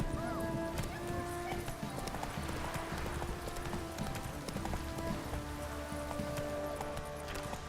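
Horse hooves clip-clop steadily alongside occasional whinnies in the video game The Witcher 3: Wild Hunt, mixed into a dense, continuous background of ambient sounds and tones.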